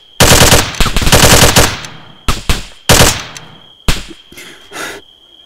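Arma 3 co-op combat gunfire: loud, close bursts of automatic fire with rapid repeated shots, then several shorter separate volleys. The shooting stands alone with no talking.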